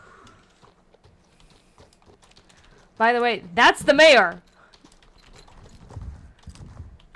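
Faint hooves clip-clop in Star Stable Online, light steady taps running under quiet game ambience, with a brief burst of voiced speech in the middle.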